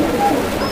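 A fancy pigeon at a market stall gives a single brief coo, close and soft, over faint background noise.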